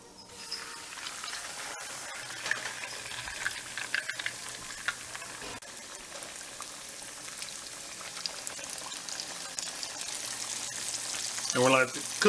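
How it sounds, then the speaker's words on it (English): Country fried steak in seasoned flour frying in vegetable oil, a low steady crackle with scattered pops that swells louder near the end, fairly quiet and close. "We're going to go ahead and begin to fry this up in some vegetable oil."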